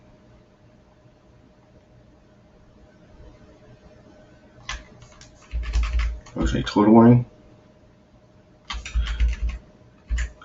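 Short bursts of keyboard key presses and clicking, close by, with a person speaking briefly between them over a faint background hum.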